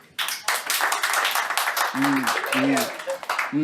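Scattered clapping from a small crowd runs for a few seconds, with voices calling out over the applause.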